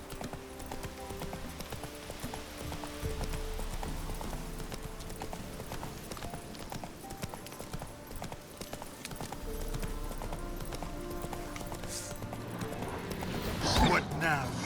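Horse hooves clip-clop at a steady gallop throughout a Witcher 3 game scene, rhythmic and moderately close, with a brief spoken line over the hoofbeats and a sharper burst near the end.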